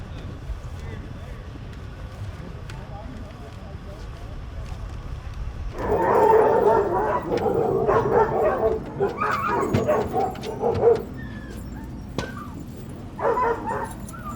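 Sled dogs on a five-dog team burst into close, loud barking, yipping and whimpering after a quiet stretch, with voices mixed in among the excited calls.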